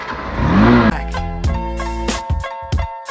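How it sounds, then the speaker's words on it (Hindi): A Hero Xtreme 160R BS6 motorcycle engine cranks and catches, surging in a rising rev, then settles to a loud close idle punctuated by several sharp throttle blips. "Let's start this motorcycle."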